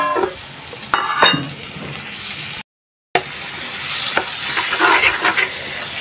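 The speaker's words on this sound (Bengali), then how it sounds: "তো মশলাটা ভালোভাবে কষাই নিয়েছি শোল মাছের জন্য" Spice paste of cumin, turmeric, chili, coriander powder and garlic paste sizzles steadily in a pan for a snakehead fish bhuna, with scraping stirs and a few sharp clinks of the spoon against the pan.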